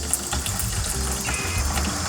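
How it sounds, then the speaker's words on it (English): Water gushing steadily through the cooling system of a Cadillac Seville during a flush, a continuous hissing, splashing rush heard close by with no speech over it. "Now it's clear water coming through."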